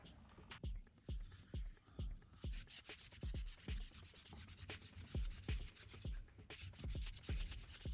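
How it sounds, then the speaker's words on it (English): Scotch-Brite pad scrubbing scratched hydraulic cylinder pistons from a skid-steer loader, a close, quiet run of rhythmic rasping strokes repeating about twice a second, steady throughout. "these little pistons are always pretty scratchy, so let's do something about that with some Scotch-Brite."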